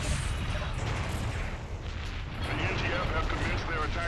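Bombs detonate in the Freespace 2 space combat game amid flak, a dense continuous rumble of booming blasts that stays loud throughout with no gaps.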